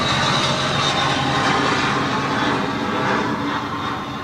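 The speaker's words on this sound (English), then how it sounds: "here comes a plane" A jet airplane passes close overhead along a flight path, with a loud, continuous roar that stays strong throughout and fades slightly at the end.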